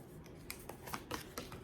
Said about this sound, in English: I'm gonna go ahead and do one last shuffle